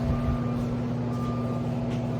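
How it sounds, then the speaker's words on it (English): A truck arriving at a home garage while a car is being rebuilt, a steady low engine drone under repeated electronic reversing beeps, fairly close and continuous throughout. "Or the truck just got here."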